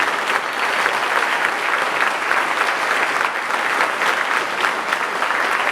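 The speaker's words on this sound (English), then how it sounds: "I want you to give a round of applause for these students that listen to you, work hard, and have achieved today and have been rewarded." Parents clap for students at a Queen's Royal College achievement day ceremony, a loud, sustained wash of many hands beating at an even level throughout with no break.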